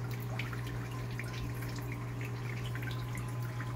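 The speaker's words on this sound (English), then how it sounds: "it's leaking a little water out of the tank still" Water leaks slowly out of an Oscar fish aquarium tank through a tube during a water change, a faint steady dripping and trickling under a constant low hum.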